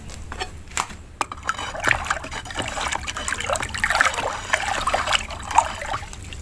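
Fertilizer solution for fruiting grapevines is stirred in water, giving trickling, sloshing liquid sounds with a few sharp knocks at the start and a continuous wet swirl that rises and falls.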